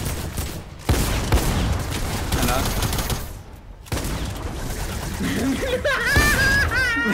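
Dense bursts of rapid Fortnite gunfire crackle over a busy mix of game noise, with a voice chattering and chuckling near the end.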